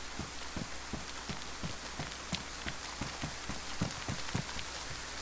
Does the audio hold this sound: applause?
no